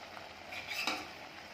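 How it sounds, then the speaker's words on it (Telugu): Carrot and beetroot jam stirred in a pan, a soft, steady scraping swirl close by with a faint sizzle underneath, brief and without any voices. "కలిగి పెడుతూనే ఉండాలి"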